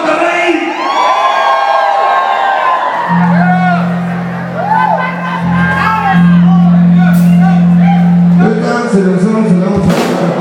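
Crowd at a live rodeo in Monterrey, Mexico, shouting, whooping and cheering loudly throughout, with a steady droning tone running beneath the noise for much of the stretch.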